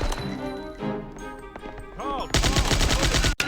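Upgraded weapon unloading gunfire in a video game during a holiday speedrun event, with scattered game effects giving way to a dense, loud burst of rapid shots at the end.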